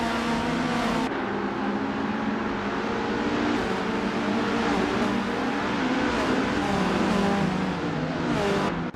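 A 1978 Metalex MTX 103C racing car in a video game drones steadily with a loud, sustained engine tone and shifting revs, joined by other cars close by, with no voices.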